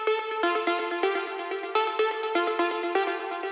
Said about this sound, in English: We have the main lead coming in, which sound like this.